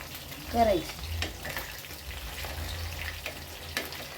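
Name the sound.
chicken 65 frying in oil on a low flame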